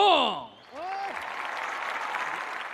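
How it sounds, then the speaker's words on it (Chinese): A brief voice opens, then a cage-fight arena crowd breaks into sustained, even applause for red-corner Chinese fighter Li Pengpeng, a 52-kilogram flyweight, the clapping holding steady to the end. "掌声再一次送给来自中国的李鹏鹏"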